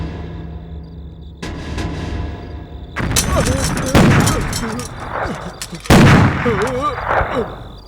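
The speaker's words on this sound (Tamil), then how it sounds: "வெடிச்சது இப்பதான் என் கண்ணு முன்னால" A loud explosion in a dramatic scene bursts in with a sudden heavy boom, followed by further cracking blasts and rumbling debris, with shouting voices in the mix.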